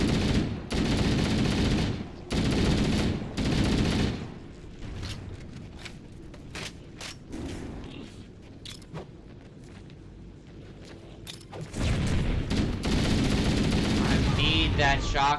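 Loud, booming bursts of shotgun fire in Halo: Combat Evolved come in several heavy blasts early and again near the end, with quieter combat noise in between.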